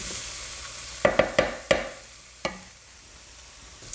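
Garlic sizzling in a pan for a moussaka sauce, with a run of sharp spoon-against-pan clacks during stirring, then one later scrape over a quiet background hiss.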